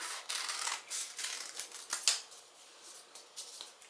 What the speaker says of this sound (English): take your scissors and you just cut right along that curve